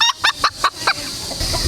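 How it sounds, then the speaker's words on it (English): A tiny Serama rooster, the world's smallest chicken breed, gives five quick, loud, rhythmic gobbling calls in close succession, then a few fainter trailing notes over outdoor background noise. "Tony's a Serama, which is the world's smallest chicken."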